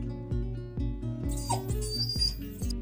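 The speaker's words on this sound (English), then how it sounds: "Dog whining sounds are high-pitched vocalizations, often produced nasally with the mouth closed." A dog whines in a high-pitched nasal series, several short rising cries repeating in a steady rhythm, close and clear with no talking.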